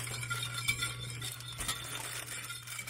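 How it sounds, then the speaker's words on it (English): A brownie cake batter is stirred in a bowl with a whisk, a steady soft scraping and swishing close by, with faint clinks and a low hum underneath. "Okay, stir it up."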